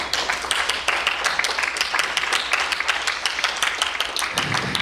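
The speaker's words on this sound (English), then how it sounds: "Give yourselves a round of applause, please." Sustained audience applause fills a conference session hall, dense and steady clapping throughout at a fairly loud level.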